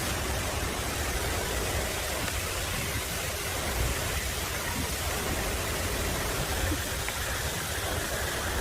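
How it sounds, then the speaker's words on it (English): Waterfall in a forest beside a cave, a steady, dense rushing wash of falling water that stays constant and fairly loud throughout, with no breaks. "Waterfall."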